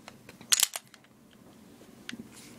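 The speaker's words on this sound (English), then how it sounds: "Rack the slide." A Sig Sauer P228 pistol has its slide racked: a sharp, close metallic clack-clack near the start, followed by a few softer mechanical clicks in a quiet room.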